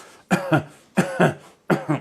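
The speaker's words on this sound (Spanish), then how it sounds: "Uno empieza a toser" Three separate coughing fits, each a pair of harsh, close coughs, with short pauses between them and no talking.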